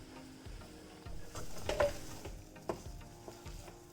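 A spoon stirs roasted rice flour into boiling water in a pot for sago and coconut payasam, giving soft rhythmic scraping swishes with a quiet bubbling hiss underneath and one sharper clink of metal.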